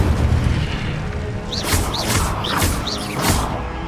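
The Incendio fire spell in Hogwarts Legacy goes off as a run of about five whooshing fiery bursts in quick rhythm over a low rumbling game background.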